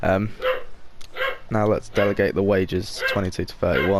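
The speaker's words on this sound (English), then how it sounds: "I do apologise for my dog." A loud pet dog barks repeatedly near a gamer during a Fifa 19 session, sharp yips and barks scattered in quick bursts, mixed with someone talking over them.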